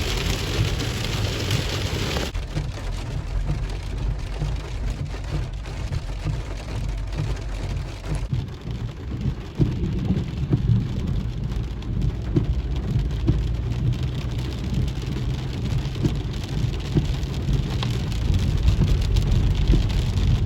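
Heavy rain pours steadily onto a moving vehicle, a dense, unbroken roar of drumming water mixed with low road rumble, loud and close throughout with no voices.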